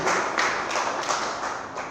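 Congregation applause during a church service, a dense steady burst of hand clapping, fairly loud and continuous throughout the short stretch.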